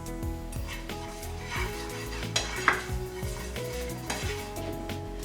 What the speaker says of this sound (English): Once the oil is hot, I'm going to add in my spices.